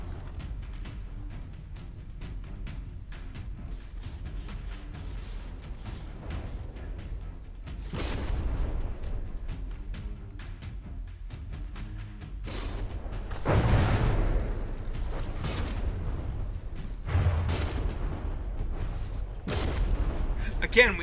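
Warship guns fire volleys in a From the Depths tournament battle in the video game: a run of deep booms and sharp blasts, some in clusters, over a constant low rumble.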